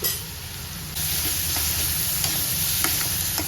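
Garlic fries with turmeric and asafoetida in a pan as a close, steady sizzle that grows louder after a moment, with light stirring taps over it.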